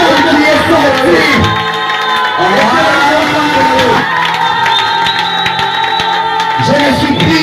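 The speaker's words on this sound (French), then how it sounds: "j'aimerais que tu puisses pousser les cris de joie" A church congregation shouts cries of joy during a worship service, a loud sustained mass of cheering and whooping voices that swells and dips throughout, with a preacher's voice heard over the crowd.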